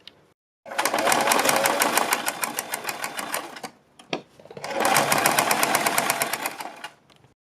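Sewing machine stitching a decorative neck design on a garment, with two loud bursts of rapid, even stitching separated by a brief pause near the middle.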